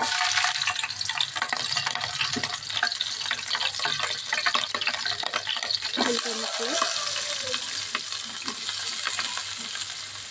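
Raw cashews and chicken frying in a pan, with steady loud sizzling and crackle broken by stirring scrapes, and a brief splash of water partway through; no talking.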